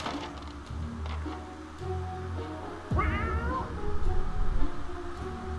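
A cat gives one clear, drawn-out meow in the survival game 60 Seconds IV. It rises over a soft backdrop of game music and ambience.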